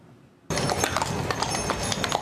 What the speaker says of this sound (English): You guessed it, that's my carriage pulling up for my personal tour of historic Pinehurst.